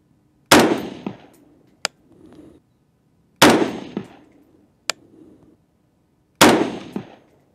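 .224 Valkyrie rifle shots are fired at a 100-yard target outdoors. There are three loud, sharp reports about three seconds apart, each with a decaying echo and a faint distant crack after it.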